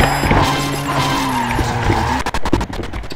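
A car crash in the PSP racing game Need for Speed Shift: loud engine drone breaks into a burst of harsh impacts and scraping crunches near the end, close and in the foreground.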